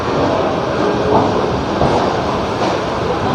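A Kolkata to Jammu express train stands at a station platform, giving off a loud, steady rumbling hum of engine and carriage equipment with no talk.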